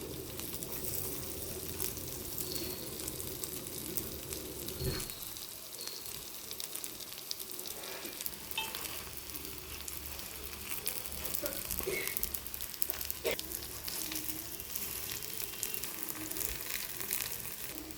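Bottle gourd ponganalu fry in a pan with a soft, steady sizzle and faint crackle, joined partway through by light scraping as they are turned.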